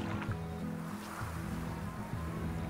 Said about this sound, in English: Another one of these geysers.